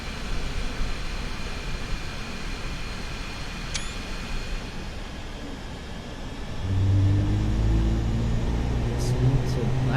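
Right engine of an airliner spooling up during start in Microsoft Flight Simulator 2020, a steady hum that swells into a louder low drone partway through, with a brief high whine rising above it.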